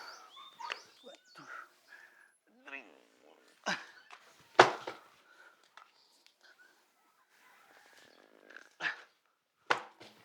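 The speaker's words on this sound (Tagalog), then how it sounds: "Oh, nandiyan na yung mga tuta." Puppies yip and bark in short, scattered bursts close by while people talk over and around them.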